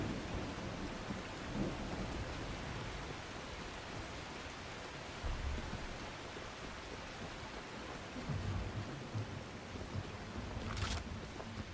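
Rain and thunder in The Last Caretaker video game form a dense, continuous hiss of steady rainfall with low rumbling thunder rolling underneath throughout, and no talking.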